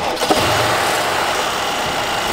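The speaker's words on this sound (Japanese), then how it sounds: "ちょっとエンジンかけてみたいと思います" A 2011 Mercedes-Benz S550 BlueEfficiency long-wheelbase with a V8 under 5 litres cranks and fires into a loud, close, steady idle.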